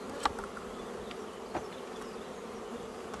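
Honeybees buzz steadily on beehive honey frames, a dense, even hum held close throughout, with a couple of brief louder passes as individual bees fly near.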